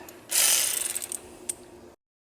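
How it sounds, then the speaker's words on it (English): A torque wrench ratchets while tightening a bolt during a timing belt and water pump job on a 2000-2009 Subaru Legacy 2.5 non-turbo engine, a close, loud burst of rapid clicking that thins into a few separate clicks before stopping. "Torque it to 33 foot-pounds for the first step."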